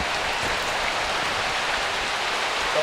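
Steady rain pours down, a dense even hiss of drops falling on surfaces, continuous and fairly close, with no talking.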